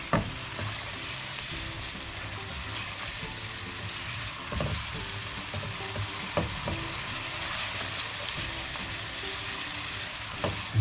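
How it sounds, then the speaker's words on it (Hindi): Brain masala fries in oil while being stirred, a steady sizzle punctuated by occasional scrapes and clacks of the spoon against the pan. "अब इसकी होगी अच्छी तरीके से भुनाई जब तक ऑयल ऊपर ना आ जाए।"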